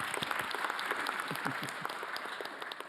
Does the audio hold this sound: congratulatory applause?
yes